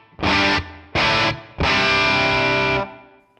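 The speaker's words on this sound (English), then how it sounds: "Let's add some reverb, which I'm using my trustworthy Capitol Chambers from Universal Audio" A distorted electric guitar played through a 1967 Sound City amp with added reverb rings out in three strummed chords, two short stabs followed by a longer sustained one that fades into a bright reverb tail.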